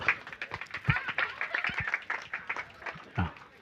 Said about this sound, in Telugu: సాలన్న వాళ్ళందరూ గట్టిగా చప్పట్లు కొట్టాలి ఇప్పుడు